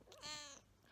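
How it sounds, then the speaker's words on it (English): A pet cat gives a short, close, harmonic vocal sound lasting under a second, rising and then fading, in a quiet indoor room with no talking. "Can you hear her purring?"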